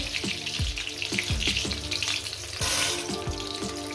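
Garlic cloves going into hot oil for a dried-fish and mustard-greens bhorta, with a little water in the pan, giving a loud, spattering sizzle broken by repeated clattering knocks of utensil on pan, no voices.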